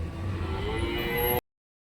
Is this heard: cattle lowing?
yes